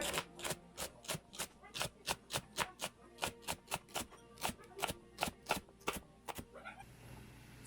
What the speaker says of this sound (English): I'm chopping up my celery and preparing my garlic